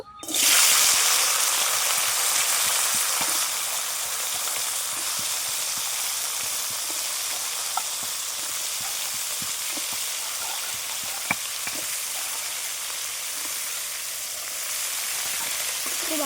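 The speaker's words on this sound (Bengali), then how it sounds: "তেলটা গরম হয়ে গেছে কাঁকড়াটা দিয়ে নেব" Sea crab sizzling in hot oil in a pan, a loud, steady frying hiss that flares as the crab goes in and then settles into a continuous crackle with occasional pops.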